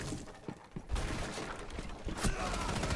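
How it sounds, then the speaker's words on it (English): Gunfire bursts in Rainbow Six Siege, a few sharp shots standing out over a busy, noisy game mix with a voice talking underneath. "somebody shooting me"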